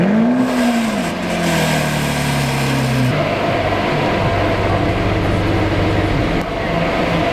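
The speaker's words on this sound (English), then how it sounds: "he's gonna do a cold startup on the Lamborghini Aventador" Lamborghini Aventador V12 cold startup, a loud close rev sweeping up then settling into a high, steady idle that gradually drops lower, alone without talk.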